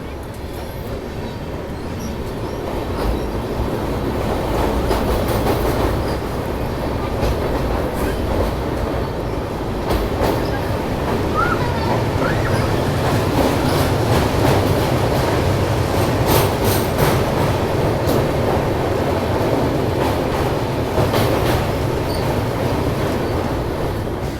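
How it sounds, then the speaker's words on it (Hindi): Tamil Nadu Superfast Express train approaching and passing, loud sustained rail rumble with rhythmic clickety-clack of wheels over track joints, building and staying close for the whole stretch. "चलिए, सामने से आ रही है आपकी तमिलनाडु सुपरफास्ट एक्सप्रेस।"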